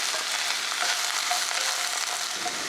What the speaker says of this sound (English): Add cooking oil to the Tajine and saute the sliced onion for about 2 minutes.